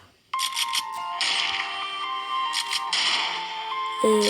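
A tune plays from a mobile game, bright electronic melody with repeated beeping notes, loud and close, starting abruptly after a brief silence.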